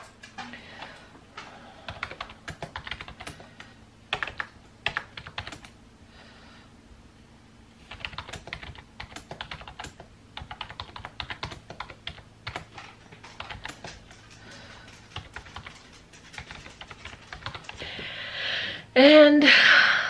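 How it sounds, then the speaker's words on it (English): Fingers tap steadily on a computer keyboard at close range, bursts of quick clicks with short pauses, fairly quiet, ending with a louder rustle. "you can watch me type for a while."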